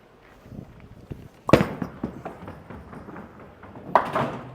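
A bowling ball striking the lone 10 pin in a bowling alley, a sharp loud crack of impact followed by rumbling lane noise and a second clatter near the end.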